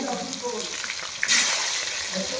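Onions hit hot oil already seasoned with dried chili and bay leaf, a loud continuous sizzle with a brief burst of spitting, close up.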